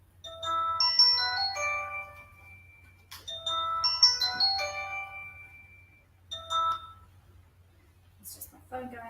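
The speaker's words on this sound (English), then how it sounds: "It's just my phone going off as usual." A phone's electronic ringtone plays a repeating melodic chime in bursts, then a short beep near the end.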